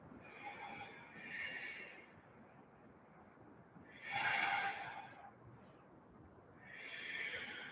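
Slow yoga breathing during a vinyasa flow, with three soft, drawn-out breaths spaced evenly apart, each a gentle airy rush. The breaths are quiet and close, with no voice over them.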